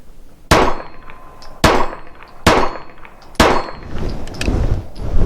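Four sharp shots from a compact single-stack Sig 9mm pistol, spaced about a second apart, each a loud crack followed by the ringing clang of a steel target roughly 20 yards away.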